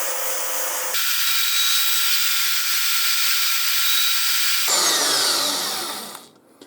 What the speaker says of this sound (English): We'll bring that over the portable bandsaw and we'll cut it right out.